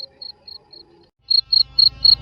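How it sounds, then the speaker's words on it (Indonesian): Crickets chirp at night in a yard in evenly spaced pulsed trills, four softer calls followed by four louder, nearer ones over a faint low background. "suara jangkrik di halaman terdengar syahdu mengantar kesenyapan malam"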